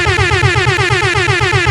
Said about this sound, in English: I'll give you an air horn real quick